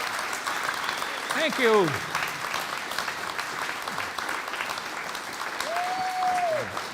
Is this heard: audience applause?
yes